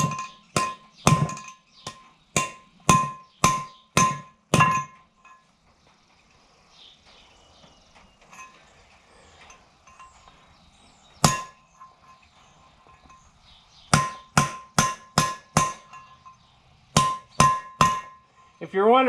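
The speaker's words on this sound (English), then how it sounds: "I'm using the side of this chisel to drive it down in so that I don't have to get my hammer right next to that lip." Hammer blows on the side of a chisel seating a seal on a ZF axle of an AGCO 9650 tractor: sharp ringing metallic clangs in quick rhythmic runs, then a pause with one lone strike, then more rapid series.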